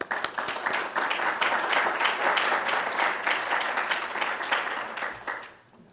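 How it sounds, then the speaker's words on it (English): An audience at a clinic day opening gives sustained applause, with many hands clapping in a full, steady wash that swells quickly and fades out in the final second. "I like to applaud all of them, okay?"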